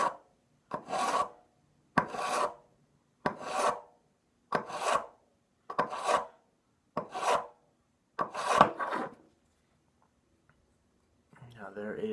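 A knife blade is drawn across a Sharpal ceramic sharpener in eight evenly spaced rasping strokes about a second apart, each a short gritty scrape, followed by silence and then faint handling noise.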